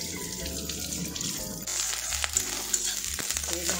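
Ginger-garlic paste fries in a pan, a close, steady sizzle and crackle with scraping stir noises and no talking.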